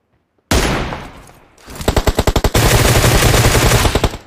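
Automatic weapon fire in PUBG Mobile: a loud close burst, then a rapid string of evenly spaced shots followed by a dense sustained volley, with no talk over it.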